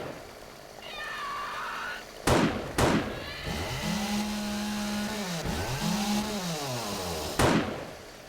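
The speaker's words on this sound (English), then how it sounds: "Chainsaw on him." A chainsaw in the video game 7 Days to Die revs up and down in rising and falling whines, broken by a few sharp loud gunshot-like bangs.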